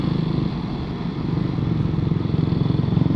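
Motorcycles gathered on a group breakfast ride rumble close by, a loud, steady, pulsing engine throb with a faint clatter, sustained throughout with no talk.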